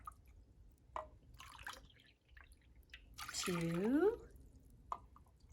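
Water is poured into a cooking pot for stone soup in a short burst with a rising, filling tone, after scattered drips and between a person's counting.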